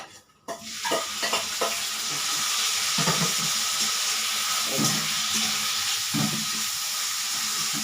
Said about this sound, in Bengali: এখানে আছে কুচানো পেঁয়াজ আর কুচানো কাঁচা লঙ্কা এটা আমি দিয়ে দিলাম